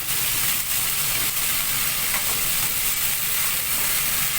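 Chicken feet cooking as adobo sizzle and fry loudly in a pan as they are stirred, a dense continuous hiss with no one speaking.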